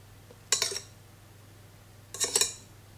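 Balloon whisk clinking against a bowl while stirring macaron meringue, two short bursts of bright metallic scraping and tapping, fairly close, with quiet between.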